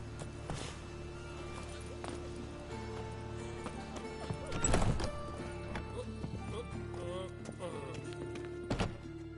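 Roach, Geralt's horse in The Witcher 3: Wild Hunt, gallops with steady clip-clop hoofbeats and a loud whinny midway, a low background hum and a voice talking over parts of it.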